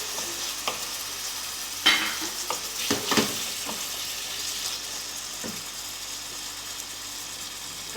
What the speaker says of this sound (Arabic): كندير زيت المائده ولا زيت الزيتون اللي بغيتو اللي عندكم اللي موجود، وكندير الصدر ديال الدجاج اللي قطعته مرصوصات صغار